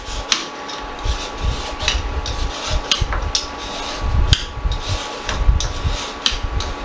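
Carrots are shredded with a julienne peeler in quick, repeated scraping strokes, a close and fairly loud rasping that continues without pause.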